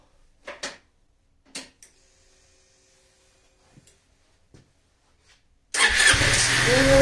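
After a few scattered clicks and handling noises, a fuel-injected Honda Forza MF08 scooter engine cranks and catches, then runs loudly and steadily close by.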